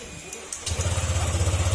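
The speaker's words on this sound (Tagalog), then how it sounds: "tatry natin paanda rin" A Honda Click 150 scooter engine catches after a brief quiet moment, following injector work, and settles into a steady, pulsing low chug, close by.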